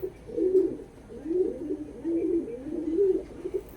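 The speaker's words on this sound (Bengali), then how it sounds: "একদম গরম ডাকের পায়রা। ঠিক আছে, ডাক দেখিয়ে দেবো কেমন কি আছে।" A colour Giribaj pigeon coos close by in a steady run of four or five soft, rolling phrases, with quiet pauses between them.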